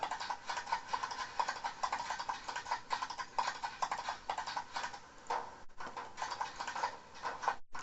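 Horse hooves clip-clop at a steady trotting rhythm in the game Expeditions: Conquistador, crisp repeated strikes close up, heard alone without talk.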